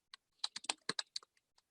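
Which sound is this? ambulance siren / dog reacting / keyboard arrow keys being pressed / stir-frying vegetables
keyboard arrow keys being pressed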